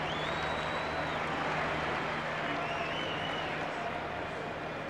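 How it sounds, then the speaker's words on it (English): Big crowd at a Yankees vs Cleveland baseball game makes a steady, distant wash of cheering and chatter, with a broadcast voice faintly over it. "A big crowd, and I'm sure a festive mood for this 4-game weekend series."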